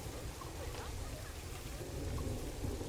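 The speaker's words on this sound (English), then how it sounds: "Admit, I'm not enjoying this rain." Steady rain falls in the Planet Zoo game, making a dense, even hiss with a low rumble beneath. It continues unbroken throughout and grows slightly louder near the end.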